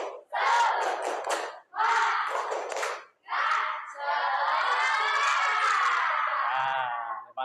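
A school class shouts a rhythmic spirit chant in unison, three short bursts of children's voices separated by brief pauses, then a longer sustained group shout, close and loud.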